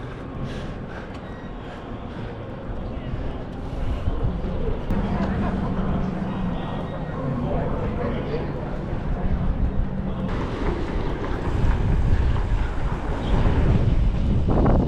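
Gusty wind at an outdoor baseball game on a cold day in downtown Akron rumbles and buffets the microphone, growing louder toward the end while people talk over it.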